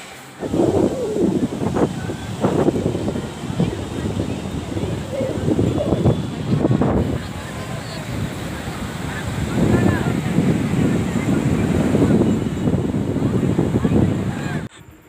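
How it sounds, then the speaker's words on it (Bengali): Strong wind buffeting the microphone at the seashore on Puri beach, a loud continuous roar with surf beneath and a person talking over it. "প্রচণ্ড হাওয়া চলছিল তোমরা হয়তো বুঝতেই পারছো ফরফর করে আজ হচ্ছে"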